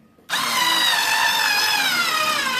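Deko cordless screwdriver driving a coarse thread drywall screw, kicking on abruptly after a brief silence into a loud, close, steady motor whine that holds with a slight drop in pitch, with no voices.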